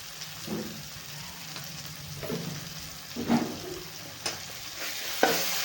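Ground spices and a spoonful of homemade masala stirred in a hot pan for a potato and cauliflower curry, a soft steady sizzle broken by occasional scraping strokes of a spoon, fairly faint and close.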